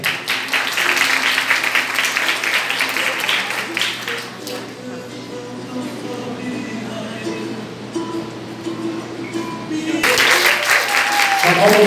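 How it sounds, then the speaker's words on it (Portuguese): Applause from the audience at a school graduation ceremony, clapping for a graduate: a steady crowd of hands that thins in the middle and swells again toward the end, with some voices in the background. "aplausos do formando Matheus Batalha de Oliveira."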